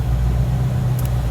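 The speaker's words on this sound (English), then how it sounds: "now I'm going to pull this car up, and I'm actually going to back it up" A 2022 Ford Shelby GT500 Track Pack reversing, its engine giving a steady deep low rumble close by, with a brief faint high chirp near the end.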